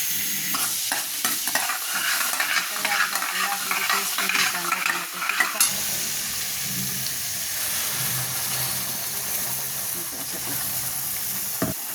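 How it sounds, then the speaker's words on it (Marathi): Mustard and cumin seeds crackle and sizzle in hot oil in a heated kadhai with a steady, bright hiss that continues throughout, with a few stirring clatters early on, while cooking pav bhaji. "आता हे चांगलं गरम झालेली आहे आपली कढई तर त्यामध्ये टाकणार आहे राई आणि जीर"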